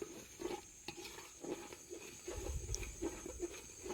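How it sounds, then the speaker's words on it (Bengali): Jackfruit curry with garlic paste and cumin powder stirred in a pan: faint, rhythmic scraping strokes roughly every half second over a quiet background sizzle. "দিচ্ছি জিরার গুঁড়া ভালোভাবে নেড়ে নিবুন"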